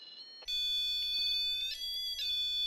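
REM pod ghost-hunting device sounding its alarm, a shrill electronic tone that starts abruptly and warbles between pitches, steady and close.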